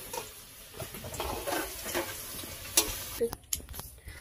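Potatoes fried red in hot oil in a home village kitchen sizzle and crackle as pieces are stirred and lifted from the pan, with scraping and a few sharp clicks near the end.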